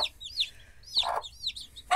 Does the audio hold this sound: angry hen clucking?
yes